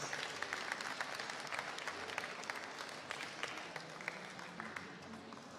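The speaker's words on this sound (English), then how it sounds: "another round of applause for Unley High School" Sustained audience applause and cheering for a high school Rocket League esports championship team, a dense continuous wash of many hands clapping from a large crowd, steady throughout with no pauses.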